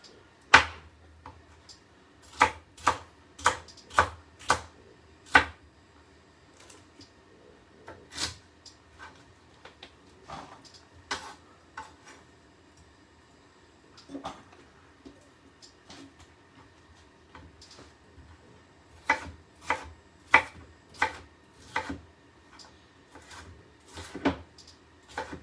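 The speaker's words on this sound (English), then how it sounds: "then we just chop this into pieces" A knife chopping a pepper into pieces on a board, sharp close taps in quick bursts of several strokes with short pauses between.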